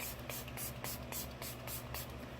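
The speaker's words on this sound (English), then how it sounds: "Spray it all over." Repeated short hissing bursts of a Milani makeup setting spray bottle, roughly six quick pumps in a steady rhythm, close and fairly quiet.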